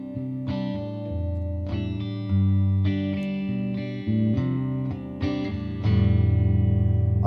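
An electric guitar played clean on the neck pickup, fingerstyle with the thumb, rings out as a series of sustained chords and notes, warm and full, alone without talk.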